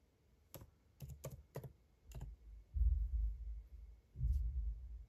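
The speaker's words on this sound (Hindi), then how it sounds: "इसमें टाइप करना है" Computer keyboard keys clicked in a few quick bursts while typing a search into Google, close and fairly quiet, followed by a low rumbling background.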